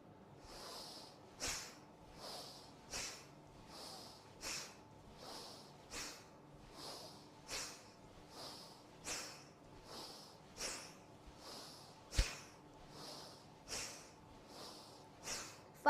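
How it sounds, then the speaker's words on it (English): Bhastrika pranayama yoga breathing in a class, a steady series of about eighteen forceful nasal breaths, each a sharp rushing puff, evenly spaced and close by, with no talk over them. "One last round for Bhastrika Pranayam."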